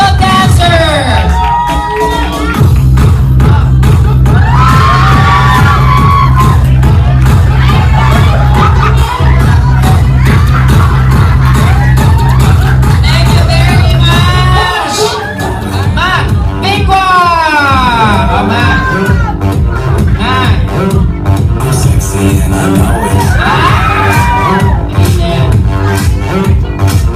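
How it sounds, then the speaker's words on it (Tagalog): A crowd at an 18th birthday debut party shouts, whoops and cheers over loud thumping party music, with rising yells in bursts throughout. "malapakan natin na may sigawan"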